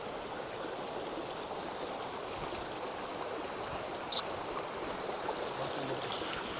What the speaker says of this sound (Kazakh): Судың сыңғырын тыңдаңыздар.